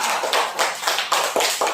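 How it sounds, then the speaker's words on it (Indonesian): Classroom clapping for a visual student group, heard as several distinct, evenly spaced bursts of hand claps in a quick rhythm, close and moderately loud. "tepuk tangan buat kelompok visual"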